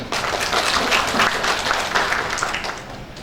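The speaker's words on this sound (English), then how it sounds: "please give a warm welcome, applause to Dr. Maarten Dolk" Audience applause welcoming a speaker at a workshop: dense, steady clapping from a room full of people, sustained at even loudness for a few seconds without talk.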